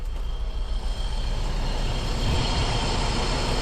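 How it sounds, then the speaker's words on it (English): A rusty BMW E30's engine runs roughly and unhealthily, a loud, continuous rumbling drone with no let-up. "that does not sound a healthy engine."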